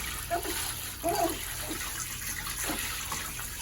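Running water rinsing a Pomeranian puppy during a home bath, a steady close splash and gush with a few brief watery bursts.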